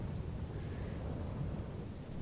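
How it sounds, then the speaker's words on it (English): Deep, continuous rumbling of thunder mixed with storm noise from a battle in the Rome: Total War video game, steady and moderately quiet with no voices. "And it's also thundering and hailing."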